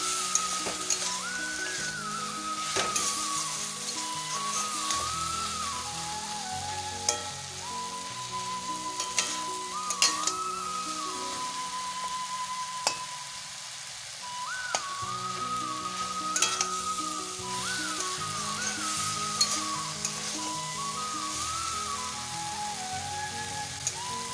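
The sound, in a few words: vegetable bhaji frying and being stirred in a pan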